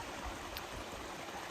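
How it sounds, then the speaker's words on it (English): A small waterfall spills into little rock pools, a steady close rushing and splashing of water with no voices. "we found a lovely waterfall and it's got like loads of little pools"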